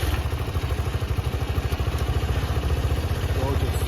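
A 1987 Honda TLR200 Reflex trials motorcycle engine runs close by with a steady, loud, low putting beat and a slight mechanical clatter.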